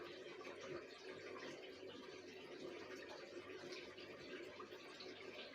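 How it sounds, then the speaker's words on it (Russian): Clean water poured from a jug into a container while setting up an infusoria culture as fry food, a steady close splashing trickle running unbroken throughout with no talking. "И сюда наливаем чистую воду."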